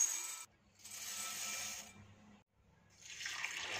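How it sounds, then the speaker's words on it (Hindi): Dry masoor dal lentils pour into a bowl in short rattling bursts, a bright hiss of grains with brief pauses between pours, close and fairly soft. "दाल को एक बाउल में डालेंगे।"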